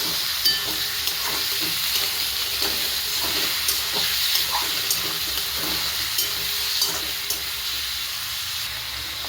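Chicken fries in oil with onion, ginger and garlic, a steady close hiss and sizzle running throughout with small ticks from stirring and no talking.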